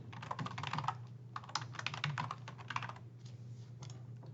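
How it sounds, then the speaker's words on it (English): Rapid keystrokes on a computer keyboard as a username is entered, close and clear, in quick bursts with brief pauses between them and no talking. "You'll need your username, so start by typing that in."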